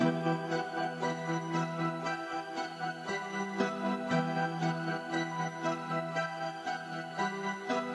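Processed synth sample playing in a steady, pulsing loop with layered tones and soft rhythmic accents, no voices.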